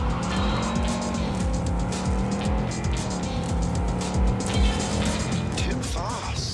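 A car races at high speed in the video game Cyberpunk 2077, with a loud, continuous engine roar and tires squealing and skidding, and game voices mixed in.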